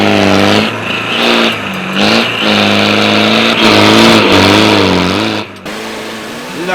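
A 4x4 off-road competition vehicle at a Sappers event in Gympie, its engine loud and close, revving up and easing off in several surges of acceleration, with no talking.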